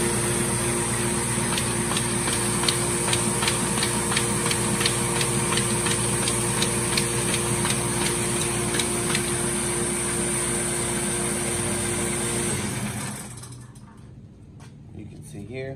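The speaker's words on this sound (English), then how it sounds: "We're going to go ahead, put our sheets in, turn on our motor" A Baum Ultrafold XLT paper folder, fed by an air vacuum pump and motor, runs steadily with a dense, even mechanical whir and rapid regular ticking as sheets pass through. It then cuts off, and the space goes quiet.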